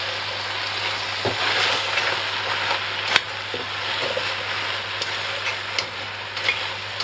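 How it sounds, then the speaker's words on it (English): Pork, carrots and vegetables tipped into a hot pan sizzle and hiss steadily, with a few sharp clicks and stirring knocks scattered over the frying noise. "We're just going to add everything into here now."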